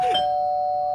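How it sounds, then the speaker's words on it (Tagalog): A single electronic doorbell chime rings out clearly, its bright tone sustaining steadily for about a second with no voices. "May nag-doorbell?"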